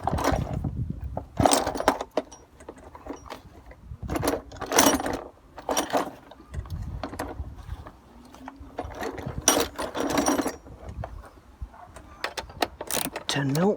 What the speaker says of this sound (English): you want to get a deep socket, a deep 10 to get these nuts off and the bracket off.